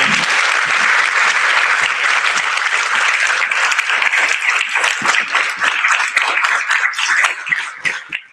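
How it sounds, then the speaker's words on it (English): An audience claps steadily through a crowded hall at a high school NJROTC change of command ceremony, a dense, sustained round of applause that thins into scattered claps near the end. "Let's give them a round of applause."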